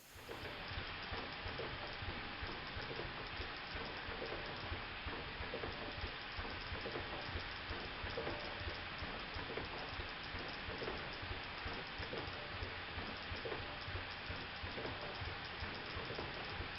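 A 5-inch gauge model steam locomotive of Stephenson's Rocket runs steadily, giving off a continuous hissing, rattling chug with no voices.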